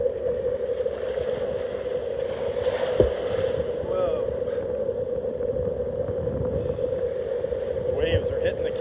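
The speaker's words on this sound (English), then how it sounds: "Waves are hitting the camera." Ocean waves at water level on a North Naples, Florida beach splash against the camera, making a steady loud wash with gusty wind noise and a brief thump partway through.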